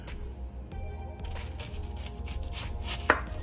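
A knife chops onion on a cutting board, the blade striking in quick, soft, irregular knocks over a low steady background hum, with one sharper thud near the end.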